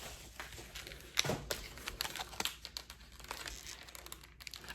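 Vacuum-sealed parcel handled up close, with quiet, irregular crinkles and sharp plastic crackles scattered over a few seconds in a hushed indoor room.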